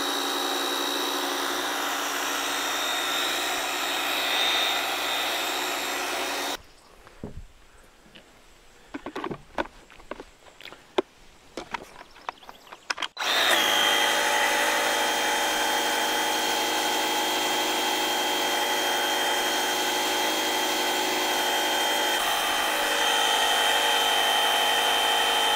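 A Dewalt 20V MAX cordless power cleaner sprays cleaning solution in a steady, loud hiss that stops for several seconds of faint clatter before resuming and running on continuously.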